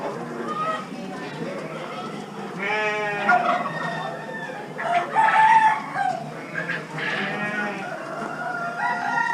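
Chickens and other fowl at a small animal auction crow and cluck in a busy, overlapping chorus, with several roosters crowing at mid distance over steady barn noise and people talking nearby.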